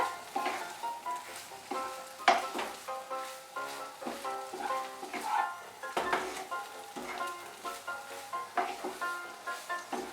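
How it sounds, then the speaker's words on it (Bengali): Broad beans frying and being stirred in mustard oil in a pan, giving a steady sizzle broken by repeated scraping stirs and light clinks, close up with no talking. "এখন আমি শিমটা ভালো করে একটু ভেজে নেব"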